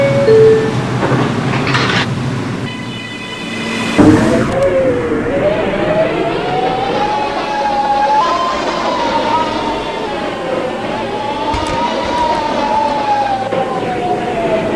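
An R211 subway train running on a late-night D line in Roblox, with electric motor whine rising and falling over rail rumble, a brief door-chime tone near the start and a thud, loud and continuous without talk.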